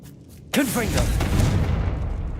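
A Confringo blasting spell in Hogwarts Legacy goes off as a single sudden loud boom with a sizzling, swooping burst, then a rumbling tail lingers over the rest of the moment.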